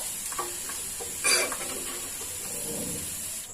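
Chicken pieces frying in hot oil for a pickle give off a soft steady sizzle and hiss, with a brief louder rustle of stirring or lifting partway through and a few faint utensil clicks.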